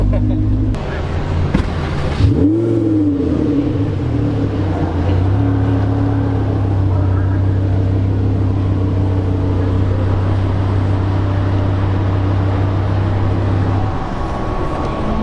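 A Maserati MC20 engine at a Cars & Coffee meet holds a loud, steady drone with one sharp rev blip early on, then settles into a sustained idle before easing off near the end, with crowd noise around.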